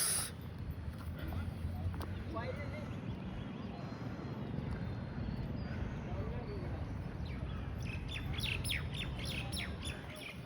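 Sparrows chirp and squawk steadily at a historic temple site, a busy flock close by over constant outdoor background noise, with people talking nearby.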